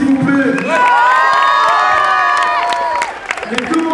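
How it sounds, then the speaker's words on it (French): A crowd at a 2009 popping dance battle roars with cheers, whistles and high whoops, rising to a loud peak before settling back into scattered shouts and claps. "On l'applaudit s'il vous plaît."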